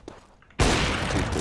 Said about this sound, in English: So Flashbang.